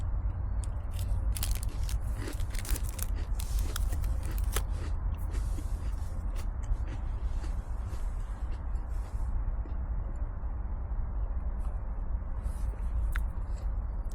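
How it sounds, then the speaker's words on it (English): Crunchy bites of peanut butter crackers eaten outdoors on an overnight bikepacking trip in March, a steady series of close chewing crunches over constant wind-like outdoor noise. "Peanut butter crackers."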